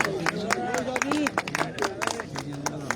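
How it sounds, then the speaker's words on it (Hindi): Audience applause at an outdoor prize distribution ceremony for a local super league, scattered sharp claps rising and falling under a continuous murmur of talking voices and babble. "जोरदार तालियां जी शायरी के लिए।"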